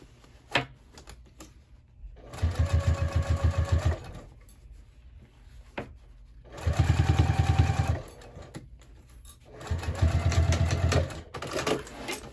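A sewing machine runs in three bursts of steady stitching, each a couple of seconds long, on a crossbody bag lining, with quiet pauses between runs and no talk.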